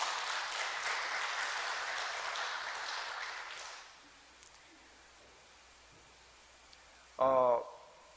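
Congregation applause at a Korean Sunday morning church service, a steady wash of clapping that fades out after a few seconds, leaving quiet room tone broken by one short loud sound near the end.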